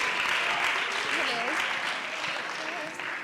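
A round of applause from the audience at a children's summit in Kenya, a steady wash of clapping that holds evenly and fades slightly toward the end, with voices faintly audible beneath.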